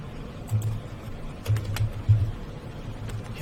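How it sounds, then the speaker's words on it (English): Typing on a computer keyboard, a few soft close key taps in scattered short bursts over a low steady background hum. "So let me just type those in."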